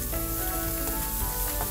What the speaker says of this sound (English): My crab is sauteing beautifully.